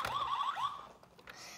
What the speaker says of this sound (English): There's the police yelp